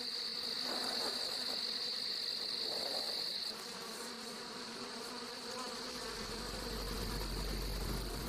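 A dense, steady buzz of many bees fills the inside of a hive, with a constant droning hum and a high whine, close and unbroken throughout.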